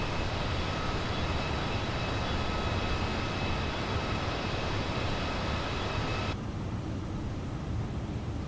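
An Airbus A320neo in Microsoft Flight Simulator on Xbox Series S gives a loud, steady engine drone with a constant whine. Partway through, the higher whine drops away and leaves a duller rumble, with no talking.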